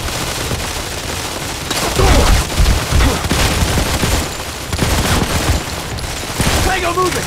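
Dense, continuous automatic gunfire and explosions from the mobile shooter Modern Combat 4: Zero Hour, loud and sustained, with shouted voices mixed in.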